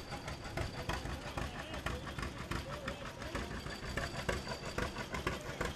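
A John Deere tractor engine runs steadily in a Fourth of July parade, its throbbing mid-range drone rising and falling slightly in an open outdoor setting, with voices in the background.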